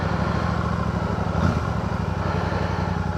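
A Royal Enfield Classic 650 motorcycle pulls away in first gear, its parallel-twin engine a steady, close, throbbing rumble with a brief rise in revs partway through.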